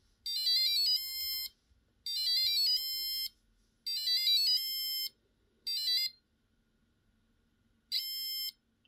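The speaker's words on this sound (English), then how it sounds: "You can make proper custom sounds with this." An Arduino passive buzzer from an Elegoo starter kit beeps with a very short delay, giving five bursts of rapid high-pitched tones, four close together and a last one after a brief gap, loud and clear with no talking.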